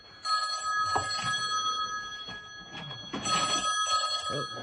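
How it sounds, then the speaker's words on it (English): An old-style telephone bell rings in two long bursts, separated by a short gap, with light clatter and room noise underneath. "Just then, the phone rang again."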